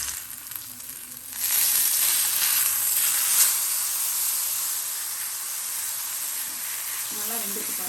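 Vanjaram (seer) fish fry sizzles loudly in a hot pan, a steady broadband hiss that jumps up after a quieter start and stays constant, with faint voice at the end.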